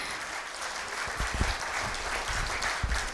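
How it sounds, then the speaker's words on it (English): Steady applause from a crowd at a company stock listing ceremony, a dense continuous wash of clapping that holds at an even level throughout. "A huge round of applause for them,"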